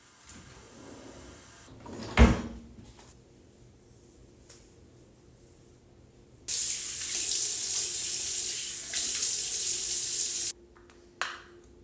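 A bathroom tap runs in a steady, bright hiss for about four seconds while someone washes their face, preceded by a sharp knock and small handling sounds, ending with a short clatter.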